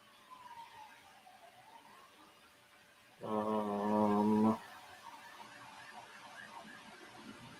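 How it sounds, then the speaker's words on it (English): A faint siren wails and sweeps in the distance under low background hum, briefly covered by a louder nearby tonal sound. "I hear sirens off in the distance."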